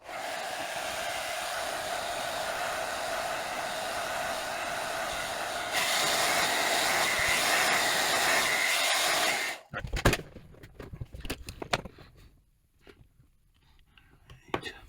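A heat gun warms the label on a video game cartridge with a loud, steady blowing whir that steps up partway, then cuts off, followed by scattered handling clicks and scrapes.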